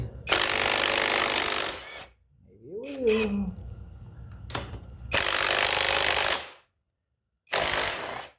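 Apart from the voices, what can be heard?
cordless drill on motorcycle bolts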